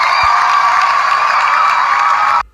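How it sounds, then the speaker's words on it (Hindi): Dense clapping and cheering from a crowd, loud and continuous for about two and a half seconds before stopping abruptly, given as applause for detective Nobita. "ये केस सॉल्व करने के लिए डिटेक्टिव नोबिता के लिए तालियां"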